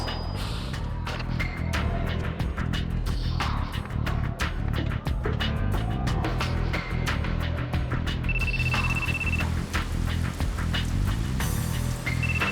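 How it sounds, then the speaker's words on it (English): A telephone rings in the video game Yakuza 2. The ringing is repeated and fairly steady, sitting inside dense game audio and background noise, and no voice speaks over it. "Another phone call."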